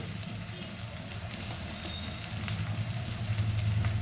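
Garlic and ginger paste frying in hot oil with turmeric for an egg dalcha, a steady close sizzle with faint crackles and stirring, no talk.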